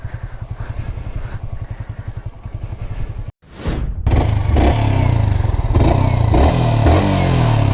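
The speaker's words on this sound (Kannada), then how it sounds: "NS 200ಗೆ ಹೋಲಿಸ್ಕೊಂಡ್ರೆ ಸ್ವಲ್ಪ ಇದು ಮೈಲ್ಡ್ ಅಂದರೆ ಮೈಲ್ಡ್ ಆಗಿದೆ ಗಾಡಿ ಮಾತ್ರ ಸೌಂಡು" A Yamaha R15 v3 motorcycle engine idles with a steady, close pulsing beat, cuts briefly, then returns louder with rising revs and a dense roar, with no talk.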